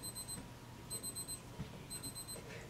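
Three bursts of high electronic beeping from a kitchen-style timer, each a quick run of tones, repeating at a steady pace over a low background hum.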